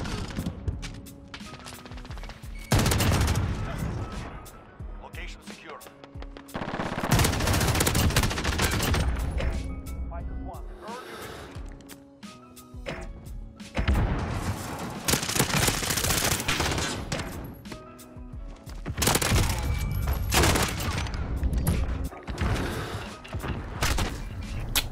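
An MG34 machine gun fires in Modern Warfare multiplayer, with loud, sustained automatic bursts. Several long volleys are broken by short lulls, and clanks and crashes are mixed in.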